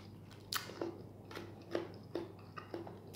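Crisp, crunchy bites and chewing close up of freshly picked Malabar spinach, a handful of distinct crunches spaced irregularly over a faint background hum.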